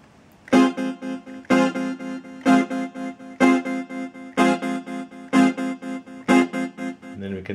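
Gameduino 2 "Groove Buddy" synth playing with reverb added: seven evenly spaced bright, harmonic-rich stabs about a second apart, each ringing out into a short tail, loud and close with no talk.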